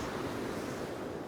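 Ocean waves washing onto a shore, a steady, loud broadband rush of surf close to the microphone with some wind noise, no voices.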